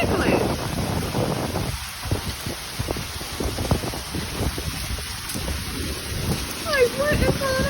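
Hail pelts a window during a hailstorm: dense, irregular, hard ticks and taps, close and loud, over a rushing wind-like roar.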